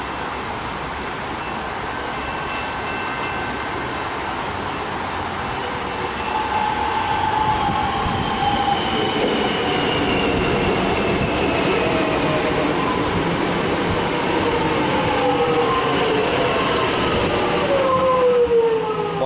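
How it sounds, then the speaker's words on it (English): A Siemens train departs in the rain, a steady loud rumble of wheels and motors with rising whining tones and a drawn-out horn, continuous throughout and close by. "It's actually got the horn of a Siemens train, or at least it sounds like it."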